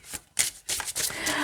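A deck of oracle cards being shuffled, with bursts of riffling and sliding card noise in quick, close succession, loud and continuous toward the end with no talking.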